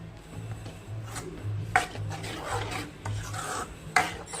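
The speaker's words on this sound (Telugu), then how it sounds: "చూడండి, నేను ఎలా తిప్పుతున్నానో, కలబెట్టుకుంటున్నాను." A tomato, onion and cashew puree for kaju masala gravy is stirred while frying in a pan, with rhythmic rasping scrapes of the spoon against the metal and a couple of sharper knocks over a low sizzle.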